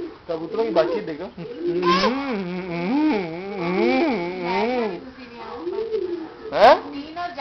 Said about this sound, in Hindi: कबूतरों की बातचीत देखो